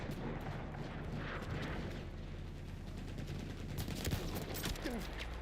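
Battlefield 1 video game combat with distant gunfire and artillery rumbling in the background, scattered sharp shots and booms heard faintly under a steady low din.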